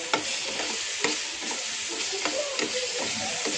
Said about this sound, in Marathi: आता आपला मसाला छान भाजून झालाय